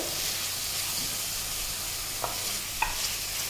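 Minced mutton keema stirred in a hot pan, a steady loud sizzle and hiss running throughout, with a couple of brief spoon scrapes standing out near the end.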